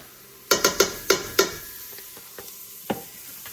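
Garlic stirred in a hot pan for white chicken chili, a run of five sharp spoon clacks against the pan, then sparser taps over a faint sizzle.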